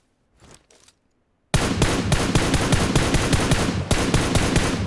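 Sustained rapid automatic gunfire in the mobile battle-royale game PUBG Mobile, a loud unbroken burst of shots after a brief faint rustle and a moment of silence.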